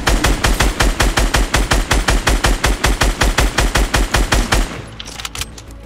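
Fast, loud video game gunfire aimed at snow, a steady stream of sharp evenly spaced shots at close range that stops abruptly, leaving a few faint scattered sounds afterward.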